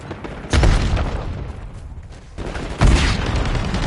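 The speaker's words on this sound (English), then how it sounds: "Throwing frag." In a Black Ops 6 match, a frag grenade goes off, followed by a second heavy blast a couple of seconds later, each a loud low boom with a crackling rumbling tail over dense game background noise.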